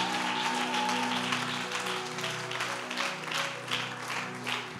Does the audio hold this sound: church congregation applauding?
yes